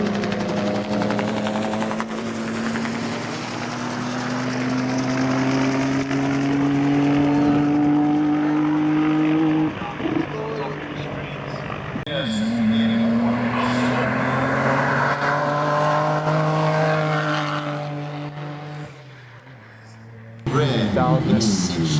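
A 2000 Nissan Skyline R33 GTR race car climbs a hillclimb course, its engine droning loud and steady with rising pitch through long pulls, briefly dipping around shifts, while a voice talks over it.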